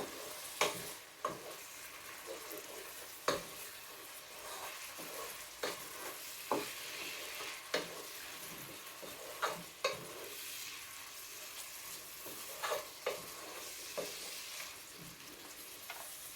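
A utensil stirs rasta pasta ingredients through a pan while they cook, with repeated scraping strokes at an irregular pace over a steady, soft sizzle and no talking.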